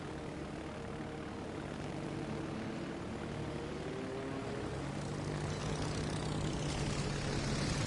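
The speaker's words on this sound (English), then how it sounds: "More aircraft have been shot down." Propeller aircraft engines drone steadily throughout a PS4 naval combat video game, a continuous loud mechanical hum with rising tonal whines, no talking.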